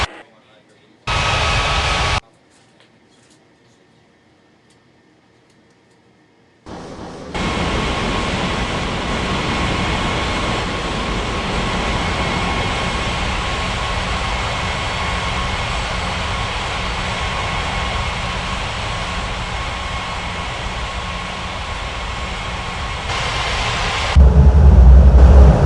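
An airliner landing in the Unmatched Air Traffic Control game: after two short bursts and a silent gap, a steady, loud jet engine roar holds for most of the clip and swells near the end.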